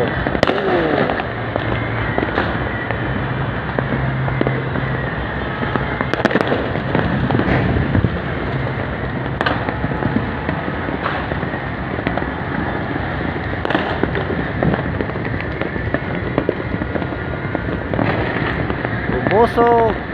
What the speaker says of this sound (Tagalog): May mga lumilipad na paputok yung mga pinapalipad nila.